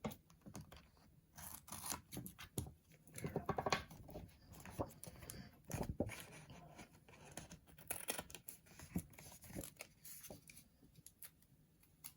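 Adhesive tape being pulled and torn off while decorating postcards, producing quiet, close, irregular crackling rips and peels in short bursts over several seconds.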